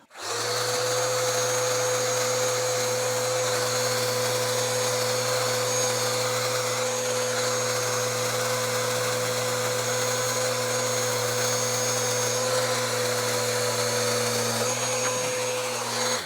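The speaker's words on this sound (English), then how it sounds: "using this small sander just to go ahead and trim that back" A small power sander trims a cabinet along its scribe line, running as a continuous steady whine at even loudness from start to finish, close by with no voices.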